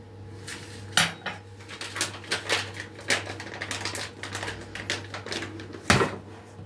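Spoon clattering and scraping against a bowl while onion pie filling is stirred and seasoned, a steady run of sharp clinks and knocks with a few louder strikes, close and without talk.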